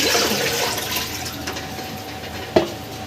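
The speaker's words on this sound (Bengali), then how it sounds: "এই যে ঘরোয়া চাল চালটা ধুয়ে নিচ্ছি" Water is poured from a mug over rice to wash it in a home kitchen, a close, continuous splashing and gurgling that fades slightly and ends with a brief clink.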